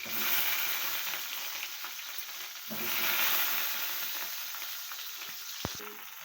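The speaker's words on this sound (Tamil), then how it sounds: "இப்போது எண்ணெய் சூடாயிடுச்சு. இதில் ஒரு கத்திரிக்காவை போட்டு வறுத்து எடுத்துக்கலாம்." Eggplant fries in hot oil in a pan, a continuous close hiss of sizzling that swells and eases, with a couple of faint clicks near the end and no voices.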